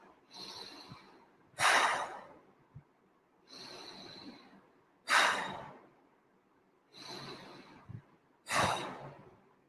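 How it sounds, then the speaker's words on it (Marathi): Three slow, deep breaths, each a soft inhale followed by a louder, forceful whoosh out through the mouth. The rhythm is evenly spaced, close up, and set against quiet. "त्यांनी दीर्घ श्वास घेऊन तोंडाने सोडायचा आहे."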